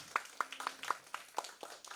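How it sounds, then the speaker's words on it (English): A small audience claps for a speaker after an academic writing discussion, giving a thin run of separate, fairly evenly spaced claps rather than a full ovation. "please give him a big round of applause"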